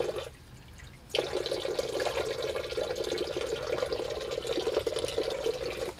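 Cold spring water splashes and runs steadily while someone washes their face at an outdoor spring in Khimki forest, a continuous close, bright watery spatter after a brief quieter start.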